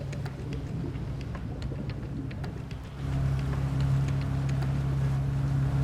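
A fishing boat motor in Palk Bay drones steadily as the boat moves away while laying a net, growing louder and fuller after a few seconds, with wind buffeting the microphone throughout.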